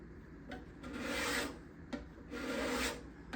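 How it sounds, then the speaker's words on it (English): A scraper blade pushed along the side binding of a guitar makes two quiet, raspy strokes, each swelling and fading in turn, with no talking. "I prefer to pull the scraper blade than push it. But sometimes I will push it"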